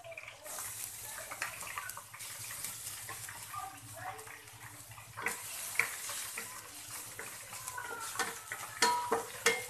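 Ginger sautéing in a pan for Bicol Express, a sizzle under stirring clinks and scrapes of a utensil against the pan, with a voice talking over parts of it.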